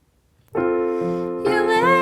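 The instrumental chorus of a song plays as clean sustained chords, one held chord followed by a brighter change about a second later, alone and fairly quiet.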